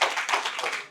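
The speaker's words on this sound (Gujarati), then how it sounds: "આપણે તાળીઓથી વધાવીએ" A brief burst of audience clapping welcomes a singer at a birthday celebration gathering, a short, moderately faint flurry of many hands lasting under a second.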